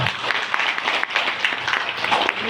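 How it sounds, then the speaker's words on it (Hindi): An audience at a business opportunity seminar in Patna claps loudly on cue, with dense, steady applause filling the whole stretch without a break. "एक जोरदार ताली बजाएंगे तो बताएंगे"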